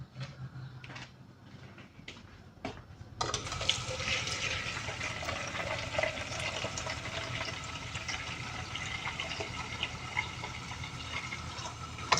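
Water is poured into a pot of arroz caldo. After a few faint clinks, a steady splashing pour begins and continues at close range for the rest of the stretch, with no voices.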